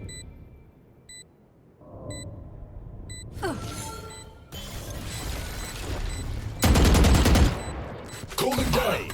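Gunfire in a tactical shooter video game: bursts of rapid shots and sharp cracks alongside electronic beeps and game effects, fairly loud and changing abruptly from moment to moment.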